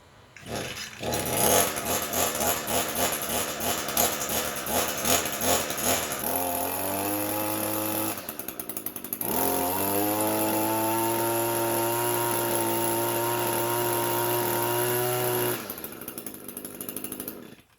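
Small two-stroke engine on an Echo blower or Shindaiwa trimmer, at half choke, catches after pull-starts, sputters unevenly, then settles into a loud, steady high-pitched buzz with a brief dip before cutting off.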